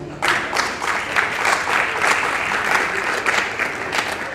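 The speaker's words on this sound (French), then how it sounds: "on peut faire un tonnerre d'applaudissements" An audience at a book launch gives a warm round of applause, loud and sustained clapping from many hands with rhythmic swells, close and continuous from start to finish.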